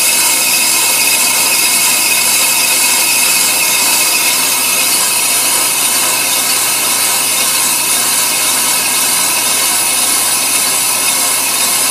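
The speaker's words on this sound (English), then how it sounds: "that bit is cutting across the drum, and we're taking off that bad glaze finish" A brake lathe's cutting bit machines a spinning brake drum to remove a glazed finish, a loud steady metallic whine and grinding drone that holds constant throughout, close up with no talk.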